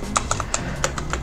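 A mechanical keyboard modded with household items clacks under fast typing, a close run of crisp, evenly spaced keystrokes, with no talking.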